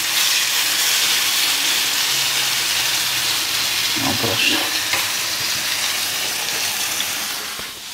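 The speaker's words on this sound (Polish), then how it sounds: "Smażymy z drugiej strony." Chicken meatballs sizzle steadily in a frying pan, a continuous close hiss of hot fat with a brief burst of spatter or stirring midway, while a voice speaks faintly under it.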